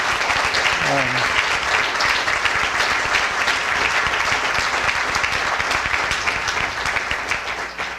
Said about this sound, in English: How about a round of applause for people who spent their day here